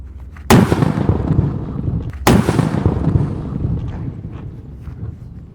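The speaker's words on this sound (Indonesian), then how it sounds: "eksperimen menyalakan mercon dari luar negeri ditutup dengan tong warna biru" Two sharp, loud blasts of an imported Basoka Boom firecracker set off under a blue barrel, the first about half a second in and the second nearly two seconds later, each trailing into a rumbling decay with wind noise.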